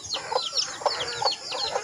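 Chickens cluck softly at feeding time beside a farm hut, with several short, quiet clucks and chirps in a loose rhythm against a faint background hiss.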